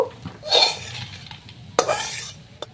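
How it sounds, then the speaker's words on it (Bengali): Neem leaves and eggplant stirred in a frying pan, with a utensil scraping and clinking against the pan over a soft sizzle, close and moderately loud, with a few sharper knocks. "যতক্ষণ না পর্যন্ত নিম পাতাগুলো একটু ভাজা ভাজা হচ্ছে, মানে পুরা পুরা হচ্ছে, ততক্ষণ পর্যন্ত কিন্তু আমি নাড়তে থাকবো এইভাবে"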